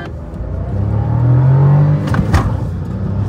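A Fronx Turbo and an i20 N-Line launching from a rolling start in a drag race, engines swelling to a loud rising roar and then easing off, recorded close with no talk.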